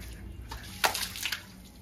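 Water-soaked slippers squelch indoors: a couple of brief, faint wet squishes and sloshing sounds stand out over a quiet background.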